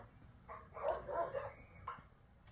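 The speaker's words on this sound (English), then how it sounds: "I apologize for my dogs barking." Dogs barking indoors in a few short yappy bursts, fairly faint and somewhat distant, with a brief quiet pause between the barks and a final single yip.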